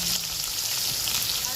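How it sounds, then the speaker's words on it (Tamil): Onion and curry leaves sizzle in hot oil for a tempering, giving a steady, close, bright hiss that runs unbroken throughout. "இப்போ வந்து வெங்காயம் அடுத்ததுக்கு கருவேப்பிலை எல்லாம் போட்டு தாளிக்கிறானே"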